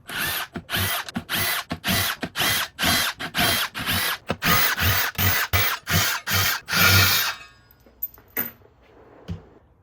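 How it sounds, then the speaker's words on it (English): An impact wrench removes the bolts holding a wheel ring, firing about a dozen loud, evenly spaced hammering bursts up close before it falls quiet apart from faint handling noises. "I'm going to take my impact, take out all these bolts, and remove the ring"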